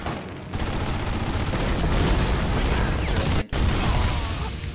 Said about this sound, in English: Boom. Already one of their houses blown up.